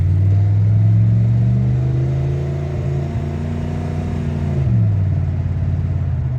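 A vehicle under a driveshaft U-joint repair check drives down a road, engine droning loud and close as it pulls through a gear, then dips and picks up again near the end.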